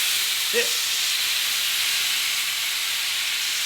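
Soy sauce sprinkled over tofu frying in a hot pan gives a steady, loud sizzling hiss throughout, with a brief spoken word near the start.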